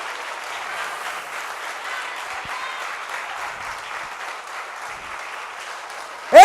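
A church congregation applauds steadily for several seconds, a dense, even wash of clapping at moderate distance, ending with a brief loud bump.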